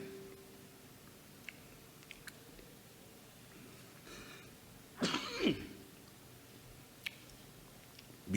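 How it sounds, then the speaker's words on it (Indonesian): A man clears his throat and coughs in a quiet room during a lecture, a short burst in the middle followed by a few faint clicks and ticks. "Biasanya begitu, kalau sudah tengah hari terbatuk-batuk."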